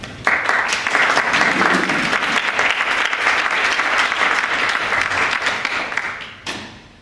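An audience in a lecture hall applauds to welcome a speaker, sustained dense clapping that holds steady for several seconds and then tapers off.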